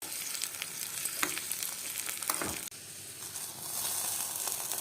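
Raisins frying in hot ghee for sago payasam make a steady, close sizzle and crackle with occasional stirring scrapes, continuous throughout and without talk.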